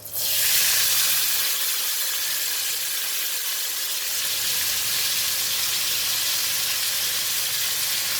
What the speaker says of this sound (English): I'm going to fry the onions with the same oil.